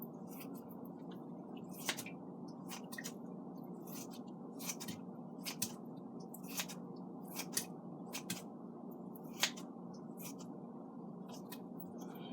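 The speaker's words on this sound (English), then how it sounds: "cabbage. Okay, I'm going to cut it." Cabbage being cut with a knife in a home kitchen, a string of crisp, irregular slicing crunches close by over a steady low background hum.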